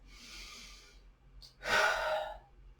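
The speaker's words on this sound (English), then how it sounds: "So let's take a few breaths." Slow breaths during a beginner yoga session with a strap: a soft, airy inhale, a short pause, then a fuller, louder exhale, all close and with no talking.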